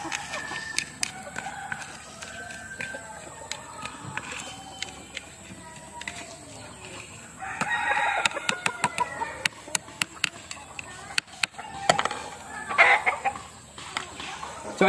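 Backyard chickens cluck and a rooster crows during morning feeding, with repeated sharp taps and rustling nearby and occasional louder calls over a steady outdoor background.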